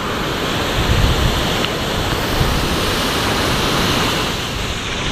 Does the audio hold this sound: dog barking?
no